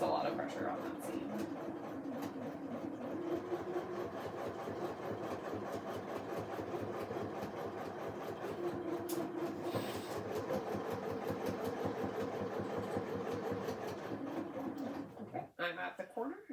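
Sewing machine stitching and backstitching the seam of an apron pocket, its steady motor hum running continuously beneath a person talking, stopping near the end.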